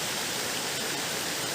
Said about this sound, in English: It's a very good water stream.